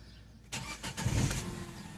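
A Peugeot 3008 with a 1.6 engine, repaired after an immobilizer fault, cranks briefly and fires into a steady idle, loud and close with no talking.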